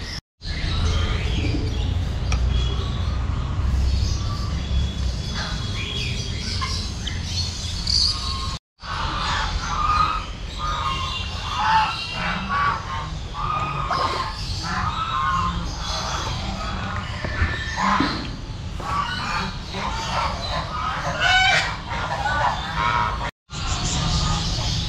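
Many birds at a zoo call over a busy outdoor background, with dense chirps, tweets and occasional honking calls overlapping continuously and mixing with insect-like trills and faint distant voices.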